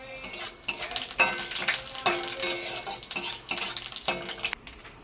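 Bay leaf and cumin seeds hitting hot oil in a kadai, a close crackling sizzle broken by several sharp metallic stirring scrapes in a loose rhythm, with no talking.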